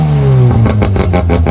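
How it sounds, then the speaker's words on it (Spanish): A Mazda RX-7 with a rotary engine revs loudly and close by, its tone sweeping down and then climbing through a run of rapid, rising pulses, with no voices. "El RX-7 tenía un motor rotativo que muy pocos vehículos, no coches, vehículos en general tienen, que hace que tenga un sonido increíble."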